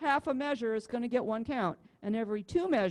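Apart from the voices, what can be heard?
None of the usual background noises is heard.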